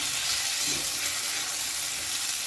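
Mixed vegetables with ridge gourd and drumstick stems stir-fry over a high gas flame, giving a dense, steady, loud sizzle up close with no talk.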